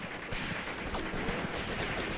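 Artillery fire booms in the Graviteam Tactics war game, a steady barrage of distant, muffled gunfire blasts rolling on without pause and with no voices over it.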